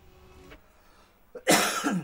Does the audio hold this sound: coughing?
yes